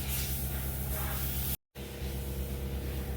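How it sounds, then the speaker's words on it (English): A compressed-air blowgun blasts brake cleaner off fuel pump parts, making a loud, continuous rushing hiss right up close. One brief cut of silence splits it midway. "So now that everything's blown off with brake clean and a blowgun"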